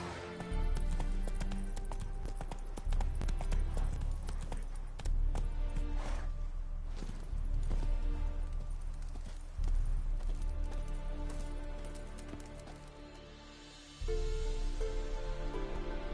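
The horse Roach gallops in a video game, rapid rhythmic hoofbeats pounding close and loud over a rumbling music bed, with brief pauses and a renewed burst of clip-clop near the end.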